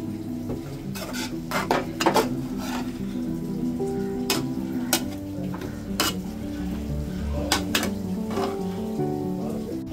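Dried fish (sukat) stirred into vegetables frying in a pan, with a spoon scraping and clinking against the metal through a steady sizzle, the sharp knocks recurring every second or so.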